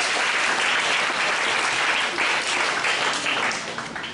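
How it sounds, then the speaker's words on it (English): Audience at a student union hustings applauding, thick continuous clapping from many hands at steady volume, easing slightly toward the end. "A round of applause."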